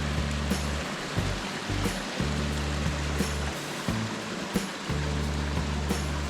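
Water runs steadily through a rocky, boulder-strewn canyon stream among thick trees in Arizona's Pinal Mountains, a continuous broadband rush with a few brief low thumps, close and fairly loud, with no talk.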